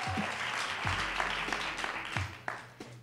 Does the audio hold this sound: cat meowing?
no